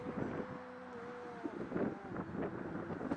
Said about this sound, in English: it's getting windy here